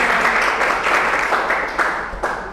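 Studio audience applause for alumni on a business talk show, a fairly loud burst of clapping with uneven accents that fades gradually toward the end.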